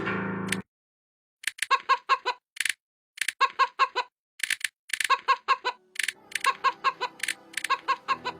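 A video game quit screen plays chicken clucking, a rapid series of short, sharp clucks in irregular bursts, loud and close, after a brief burst of game noise and a pause.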